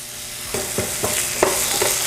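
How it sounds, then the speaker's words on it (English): Onions fry in a tablespoon of olive oil in a hot non-stick pan, a bright close sizzle punctuated by about five quick stirring scrapes. "we're going to heat our hot pan with about a tablespoon of olive oil. In with our onions."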